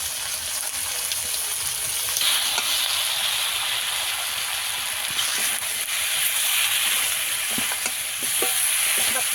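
Spices, turmeric and chilli powder sizzle and hiss steadily in a pan while being stirred for a tangra fish curry with potatoes and peas, with scraping stirs breaking through the constant frying noise.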